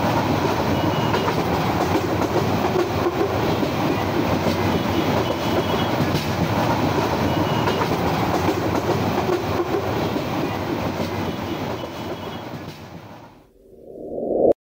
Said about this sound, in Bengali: ট্রেন একদম রাইট টাইমে ছেড়ে গেল কমলাপুর থেকে।